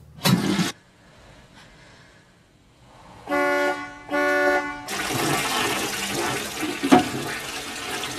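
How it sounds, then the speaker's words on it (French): A toilet flushing in the 1986 film Blue Velvet: a rushing surge of water starts and keeps roaring steadily, after a brief noisy burst and two short tonal honks. "Oh, il entend pas à cause de la chasse d'eau."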